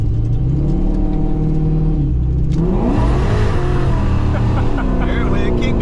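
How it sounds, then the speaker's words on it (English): Fox body car with a very rich-running engine accelerating hard, heard from inside as the transmission kicks down and immediately shifts back, loud steady engine drone with rising and dropping pitch and a voice talking over it. "There we kick down there. And immediately shifted back."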